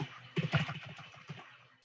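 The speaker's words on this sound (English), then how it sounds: "typing is so difficult with one hand" Soft, quiet clicking of a computer keyboard typed with one hand, a short irregular burst of keystrokes that trails off, with no voices.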